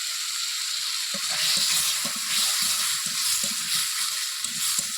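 Potatoes seasoned with salt sauté in a hot pan, a steady broad sizzle running throughout with repeated scraping, stirring knocks from a spatula close up, no voices.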